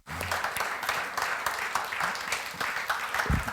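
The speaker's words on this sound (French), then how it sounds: "J'aimerais qu'on puisse juste acclamer toutes les mamans, qu'elles soient mamans ou pas" An audience applauds at a church gathering to cheer all mothers, a steady wash of clapping filling the room from start to finish, with faint voices underneath.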